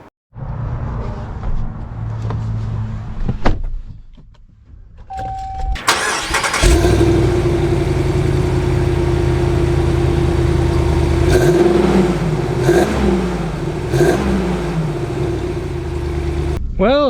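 A Ram Rebel HD pickup's 6.4-liter Hemi V8 cranks and catches around six seconds in, then idles with a steady rumble and revs a few times as it pulls away, loud and close.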